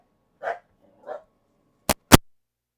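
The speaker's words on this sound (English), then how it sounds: "That was my dog." A dog lets out two muffled, fairly distant barks, followed by two sharp, loud clicks close by.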